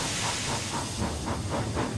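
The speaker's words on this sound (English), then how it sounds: "He was so red in the face that he wished steam at them." A steam engine hisses loudly and continuously for about two seconds with a pulsing, rhythmic chuff, cutting off abruptly at the end.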